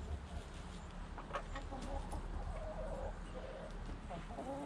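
Backyard chickens clucking and calling at close range while scratch feed is scattered, a steady busy murmur of fowl sounds over low outdoor background noise with no talking.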